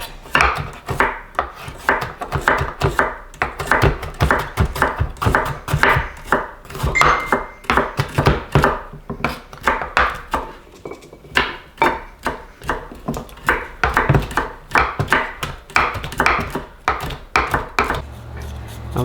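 A knife chops ingredients for compound butter on a cutting board in an off-grid cabin kitchen, with rapid, steady, close knocks of the blade striking wood, continuing unbroken with no talking.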